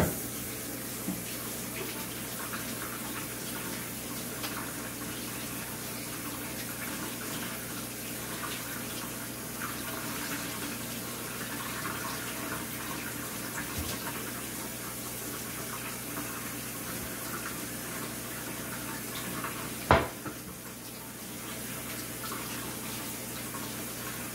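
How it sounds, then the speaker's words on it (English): Water runs steadily from a tap during hand washing in a furniture restoration workshop, a continuous moderate gush lasting throughout with a brief clunk near the end. "Let me wash my hands."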